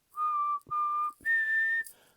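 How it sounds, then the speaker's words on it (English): A person whistles three clear sustained notes, the third slightly higher and longest, close and solo with brief breaths between. "Boys may whistle"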